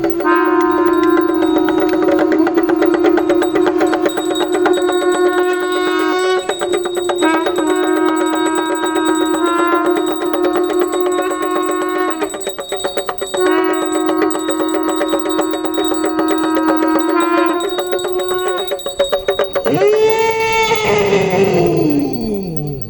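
A temple bell rung during a Ganesha blessing ceremony at a Thai temple: loud, ringing metallic tones struck repeatedly and sustained without pause for about twenty seconds, ending in a swelling, wavering tone.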